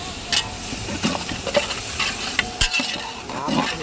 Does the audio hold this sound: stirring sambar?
yes